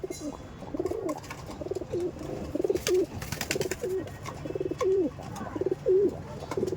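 A pigeon in a loft gives repeated rolling coos, each lasting about a second and spaced through the clip, over faint background rustle.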